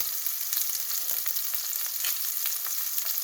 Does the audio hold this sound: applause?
no